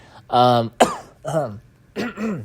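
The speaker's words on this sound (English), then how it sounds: "got interrupted by my coughing and whatnot" A few rough, throaty coughs and throat-clearing bursts in quick succession, close and fairly loud, with short pauses between them.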